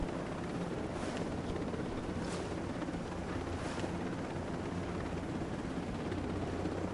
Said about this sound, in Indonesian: Helikopter yang sampai hancur.